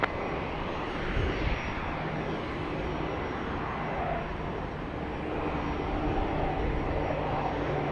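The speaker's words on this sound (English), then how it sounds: "This is a Beach King Air B200." Steady, loud broadband engine roar from a Beechcraft King Air B200 turboprop at Dallas Love Field at night, a continuous drone holding level from start to finish with no talk.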